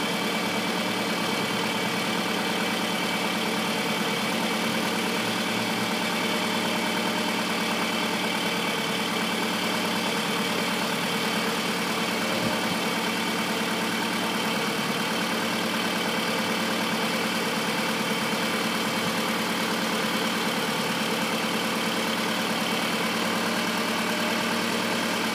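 The 2.4-liter engine of a 2002 Toyota Camry idles steadily for about 25 seconds, a close and even hum with no variation and no voices.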